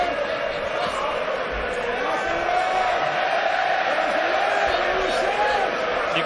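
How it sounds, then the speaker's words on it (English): A live crowd at a PFL Europe MMA fight roars in support of a fighter during round two, a sustained, moderately loud cheer that stays steady throughout, with a commentator's voice running over it. "You can hear the crowd getting behind Sean McCormac."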